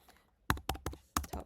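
Keystrokes on a computer keyboard while adding view labels to a CAD drawing: five sharp, close taps spaced about a fifth of a second apart after a quiet start, no talking.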